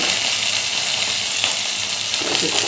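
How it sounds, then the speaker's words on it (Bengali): Fresh fish oil fries in a pan with a constant, fairly loud sizzling hiss and faint crackles, no voices. "এবার খুব ভালো করে এটা ভাজা ভাজা করে নেব"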